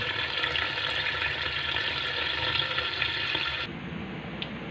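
Steady rushing water runs from a tap into a cooking pot for several seconds, filling it halfway, then cuts off abruptly, leaving a quieter trickle and faint background noise.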